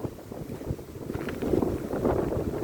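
Strong wind gusting across a frozen reservoir, a continuous rough roar of buffeting against the microphone that swells louder partway through, with no voices.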